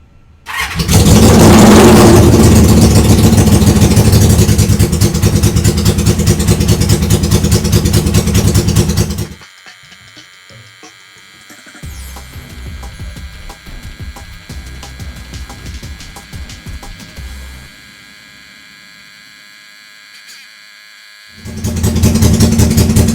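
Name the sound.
1973 Honda CB350F motorcycle engine started and running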